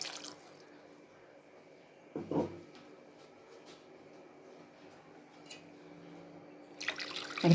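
Water is poured into a stew of dried prawns and Methuku vathal as it cooks, giving a brief splashing pour amid quiet kitchen drips and faint background noise, with another splash near the end.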